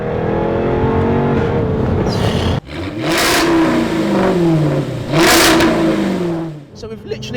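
A Jaguar F-Type V8 R sports car revving hard, loud and close, with two rising engine blasts separated by a sharp drop, harsh crackle and a burbling idle between pulls.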